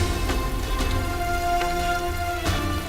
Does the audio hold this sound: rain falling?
yes